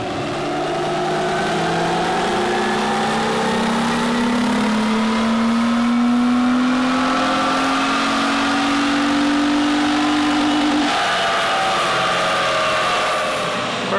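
A Toyota 4Runner engine on a dyno pulls in third gear from 2,500 to 5,500 RPM on 91 octane fuel on a hot day. Its drone rises steadily in pitch for several seconds, then drops off as the run ends.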